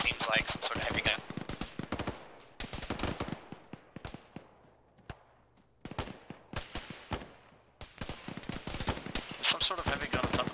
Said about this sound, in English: Some sort of heavy gun on top of the grain piles.